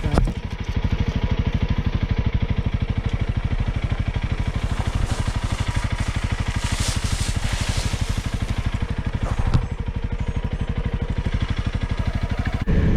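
A CFR 300L ABS motorcycle rides along a street, its single-cylinder engine thrumming in a steady, close, loud pulse that holds for the whole stretch, with a brief jolt midway and no speech.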